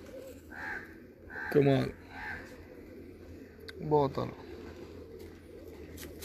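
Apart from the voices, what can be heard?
pigeons cooing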